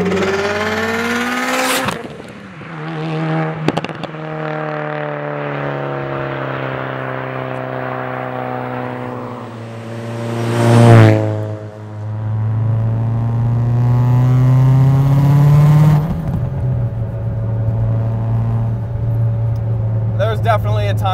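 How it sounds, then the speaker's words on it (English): Turbocharged 600+ hp Mitsubishi Lancer Evo 8 with a 2.3-litre stroker engine on E85 pulls hard through long rising revs that fall back in between. Sharp exhaust pops stand out over the steady, loud engine note. "you get rewarded with the pops and the flames from the exhaust and like the turbo spool"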